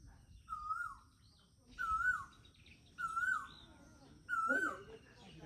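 An Asian koel, a cuckoo, calls from a mango tree in spring. It gives four evenly spaced, rising whistled calls about a second apart, moderately distant and faint, against a quiet background.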